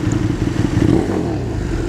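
Motorcycle fitted with a new Austin Racing GP1R titanium slip-on exhaust, a loud, steady close-up engine drone with a slight rise in intensity partway through, heard alone without talk.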